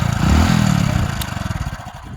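A motorcycle engine runs close by with a steady, rapid thumping that loosens into distinct pulses as it settles, with no talking over it.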